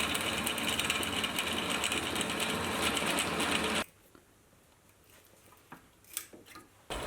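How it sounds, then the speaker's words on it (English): A drill bores an M8 hole into mild steel as a steady, loud machine whir for nearly four seconds, then cuts off, leaving quiet room noise broken by a few faint metallic taps. "it needs an M8 hole drilled and tapped in the top"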